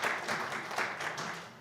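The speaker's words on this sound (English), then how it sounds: "I have to applaud that." Faint audience applause rises after a 9-ball pool shot at the U.S. Open 9-Ball Championship, a soft, steady patter of clapping with no talk over it.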